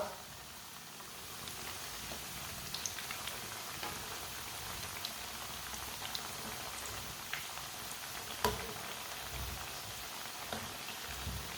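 Chicken kebabs fry in a pan as a steady, hissing sizzle, even and continuous like light rain, with faint pops now and then and a soft voice underneath.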